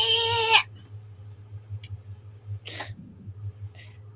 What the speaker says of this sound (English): My cat keeps screaming